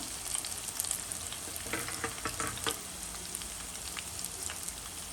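Whole garam masala spices and bay leaf frying in hot oil for biryani, a steady close crackling sizzle with scattered sharper pops throughout.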